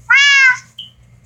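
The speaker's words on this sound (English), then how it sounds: "Come on, kitty." A cat meows in the Minecraft video game, one clear drawn-out mew lasting about half a second, loud and close, with a faint brief tone after it and quiet background.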